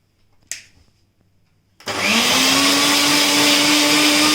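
Roasted oats in a mixer grinder jar: a sharp click first, then the motor starts and settles into a loud, steady whirring roar as the oats are ground to fine powder.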